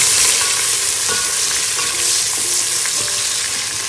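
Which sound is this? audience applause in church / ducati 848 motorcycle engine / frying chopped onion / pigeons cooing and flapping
frying chopped onion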